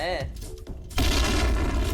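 A sharp, heavy grenade blast in the shooter game Point Blank erupts partway through and rumbles on loudly, preceded by a brief burst of processed game sounds.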